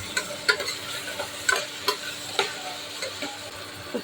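Tomatoes frying in a pan with sautéed onions and a ground paste of fennel, ginger and garlic for a chicken gravy, giving a steady sizzle broken by repeated scraping stirs of a spoon, close and alone.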